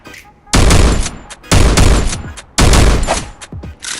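Video game gunfire in Free Fire, three loud, close bursts of rapid automatic fire, each about a second long, separated by short pauses.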